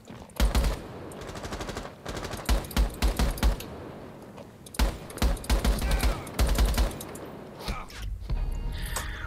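Rapid automatic gunfire from the video game Rainbow Six Siege, dense bursts of repeated shots with brief pauses, loud and close, with faint game noise between bursts.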